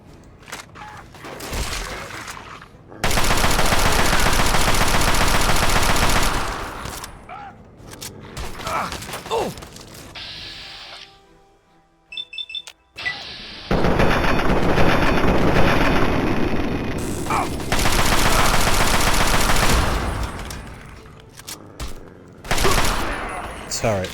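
Turret machine guns rattle in Fallout 3, long loud sustained bursts of rapid fire separated by a quieter gap of clanking and small mechanical noises, with a voice speaking at times.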